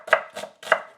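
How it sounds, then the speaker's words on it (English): A knife slices through onions on a cutting board, three crisp, evenly spaced chopping strokes heard close and alone. "We slice our onions"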